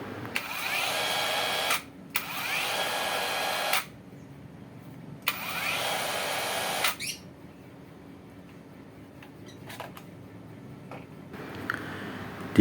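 Cheap cordless brushless circular saw run unloaded in three loud bursts of high whine, each about one and a half seconds long with abrupt starts and stops, followed by quieter clicks and handling noises.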